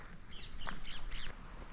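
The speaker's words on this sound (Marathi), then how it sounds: "सगळीकडे पाणी आणि पक्षींचा आवाज येतो आहे" Crows caw near a river in the forested hills around Jategaon, a few faint calls grouped in the middle over quiet background water and no talking.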